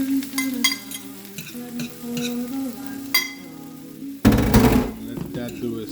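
Scrambled egg goes into a pan with melted butter for breakfast tapas, and a loud burst of frying sizzle follows scattered utensil clinks and a soft low hum.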